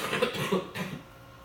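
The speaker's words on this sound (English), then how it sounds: "still got a little cough" A few rough coughs come in a quick cluster close to the listener, then fade into near silence.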